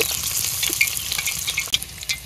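Chopped onions frying in hot oil in a kadai, along with cinnamon, cardamom and cloves, in a village kitchen: a loud, close, continuous sizzle and crackle with a few light stirring scrapes and no talk.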